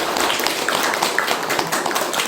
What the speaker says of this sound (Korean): 여러분의 큰 박수로 종료하겠습니다